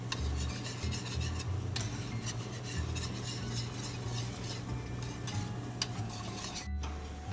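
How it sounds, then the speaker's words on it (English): Cooking vegetables for a lasagna are stirred in a pan, giving continuous scraping and rasping strokes with a soft sizzle underneath and no talking. "Give them a good mix again."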